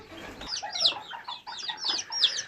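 A mother hen with chicks clucks and chirps while being fed chopped lahmacun. The calls come in short, close bursts with high chick peeps mixed in.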